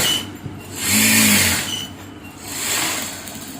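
Sewing machine top stitching a chudithar top, two short bursts of whirring stitching separated by a pause, fairly close and steady, with no talk.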